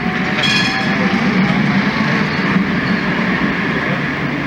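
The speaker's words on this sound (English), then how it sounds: "More and more trams." A tram rolls past on an Amsterdam street with a steady, loud rumble and a brief high squeal near the start, continuous throughout without speech.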